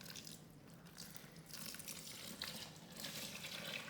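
About 1.6 litres of water pours steadily into a concrete mix, a faint continuous splashing and trickling that swells slightly toward the end.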